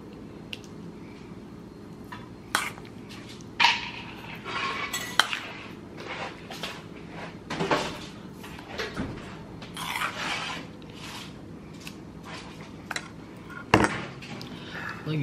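Cauliflower mash being plated with seafood sauce, serving utensils clinking and scraping against dishes in irregular bursts over a steady low kitchen hum, with occasional louder clatters.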